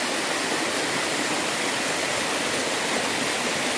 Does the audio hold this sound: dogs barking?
no